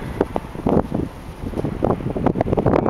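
Strong wind rushing past the microphone during a parachute jump, a loud, gusty roar that surges and buffets steadily, with no voices over it.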